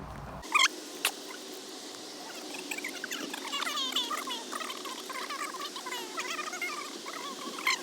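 Soft, busy chatter of chickens, hens and roosters, clucks and peeps overlapping continuously at moderate distance at a farm mill, with a couple of sharp knocks near the start.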